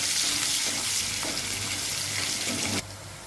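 Onion sautéing in banana-cooking oil with cumin and two bay leaves, a steady close sizzle with a few stirring scrapes, cutting off near the end.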